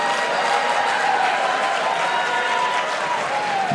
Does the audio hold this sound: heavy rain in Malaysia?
no